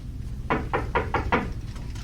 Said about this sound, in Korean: 두드리는 건 이렇게 소리나는 행위로 똑똑똑 노크하기도 하고